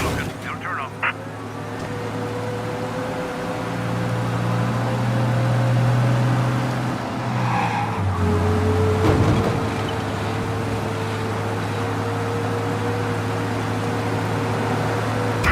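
A car engine in Mafia Definitive Edition drones steadily at speed while fleeing pursuers, its pitch shifting as the vehicle accelerates, with voices talking over the running motor.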